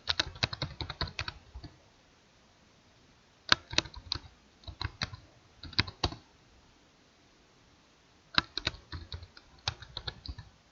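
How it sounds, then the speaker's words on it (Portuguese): Fingers type on a computer keyboard while filling a column of cells in an Excel spreadsheet, crisp close key clicks in quick bursts separated by short pauses, with no talking. "Basta você digitar na célula."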